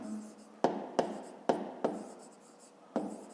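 A pen writes out a 5th-grade math exercise solution on paper, giving five crisp, close strokes at irregular intervals with a faint scratchy hush between them and no voices.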